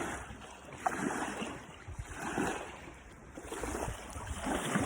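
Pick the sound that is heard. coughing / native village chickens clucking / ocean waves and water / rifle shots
ocean waves and water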